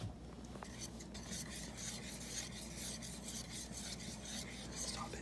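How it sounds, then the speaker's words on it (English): A batter made with sugar is stirred together in a bowl, giving faint, rhythmic scraping and rubbing strokes that repeat steadily, close by and quiet. "now we're gonna mix it all together."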